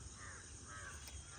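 A crow caws in a short, clear call heard outdoors near a watermelon harvest, a single rough cry of moderate loudness against faint background noise.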